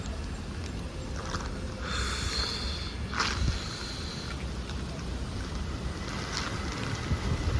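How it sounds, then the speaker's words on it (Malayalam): Strong wind buffets the microphone with a steady low rumble and occasional gusts, outdoors on a rainy day near a door, with no talking. "നല്ല കാറ്റുണ്ട്."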